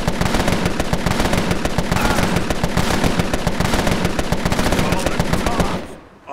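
Sustained machine gun suppressing fire in the video game Empire of Sin, rapid loud bursts that hammer on for several seconds, then cut off abruptly into near silence.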